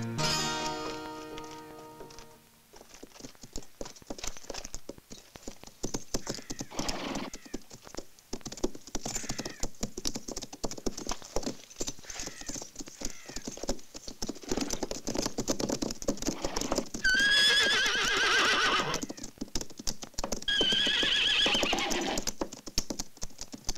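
Rapid hoofbeats patter continuously as horses gallop in a western film, with a couple of loud whinnies breaking through near the end.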